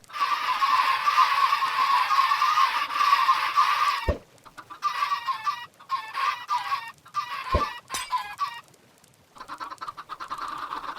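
Chickens in the Minecraft video game cluck over and over, close and fairly loud, with several short breaks and a few sharp clicks.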